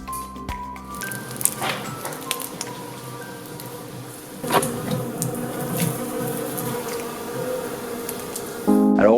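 Bees buzz densely at a beehive on a mountain farm, a loud continuous swarm hum with individual insects zipping close by and passing in and out.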